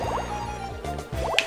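Bubbly watery plinks and drips from the Mario Party 4 video game sit over steady game music, with a few short liquid bloops close together.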